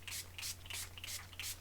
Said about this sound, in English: I'm going to go ahead and setting spray my face now.